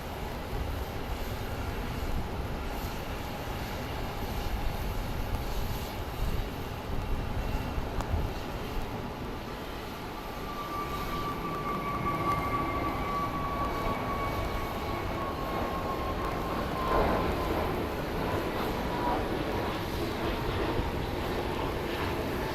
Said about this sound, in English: let's film the takeoff of another Frontier